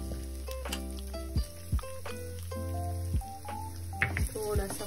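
Coarsely crushed carom-leaf mixture with chana dal, garlic, coriander and cumin frying in hot oil for chutney, a low sizzle with clinks and scrapes of a utensil, fairly close.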